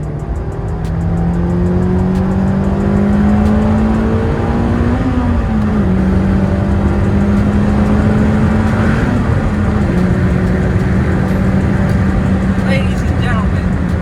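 A Honda S2000 engine floored in fourth gear at low speed drones steadily and loudly, its pitch rising slowly and then dipping as the car lugs along, with a continuous rumble throughout.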